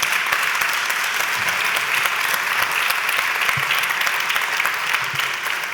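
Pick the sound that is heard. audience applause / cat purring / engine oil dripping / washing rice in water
audience applause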